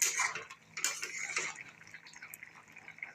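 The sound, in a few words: lifting the lid of a cooking pot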